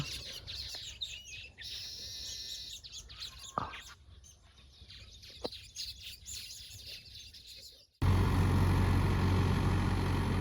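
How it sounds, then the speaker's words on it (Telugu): Birds chirp and tweet repeatedly from a nearby tree, with a low engine hum beneath, then a loud rushing noise abruptly takes over near the end. "ఈ చెట్టు మీద అన్ని పిట్టగుళ్ళు ఉన్నాయి అన్నమాట."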